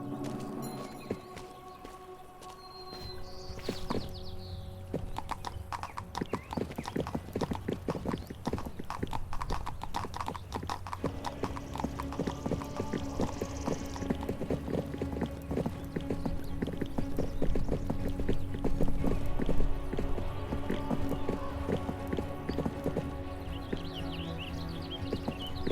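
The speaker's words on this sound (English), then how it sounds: "Father, get on your horse." Horse hooves galloping in the medieval video game 1428: Shadows over Silesia, a steady rapid clip-clop drumming close and loud for the whole stretch, with a brief whinny and faint ambient sounds behind.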